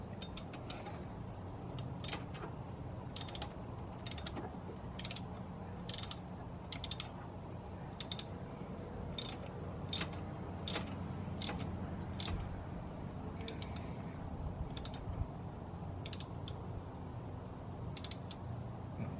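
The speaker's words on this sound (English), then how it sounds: "then we'll go tighten it with the socket." Socket ratchet tightening the coolant temperature sensor on a Mitsubishi Galant VR4: evenly spaced clicking strokes repeating over a low background hum, close and fairly quiet, with no talking.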